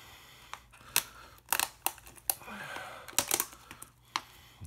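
Close, crisp crackling and tearing of cardboard and plastic wrap as a box of Legendary Dimensions cards is opened and unwrapped, in irregular bursts of sharp snaps and rustles with no talking.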